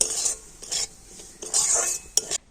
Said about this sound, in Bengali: সুজিটা হালকা জাল দিয়ে ভেজে নিতে হবে।